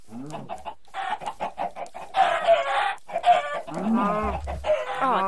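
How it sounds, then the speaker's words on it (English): Several chickens cluck repeatedly in Minecraft, a busy, fairly loud string of squawks and clucks that swells in the middle and carries on steadily, with no speech. "Kill the chickens!"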